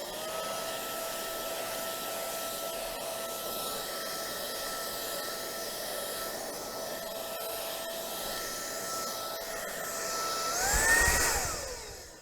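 A BVILY cordless vacuum cleaner with a brush attachment runs with a steady high whine and airy hiss. It swells louder and rougher near the end as the brush works into a tight spot.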